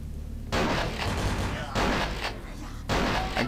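Three heavy bursts of gunfire from the Vampire The Masquerade Bloodlines video game, each a loud, dense blast lasting about a second, separated by short pauses.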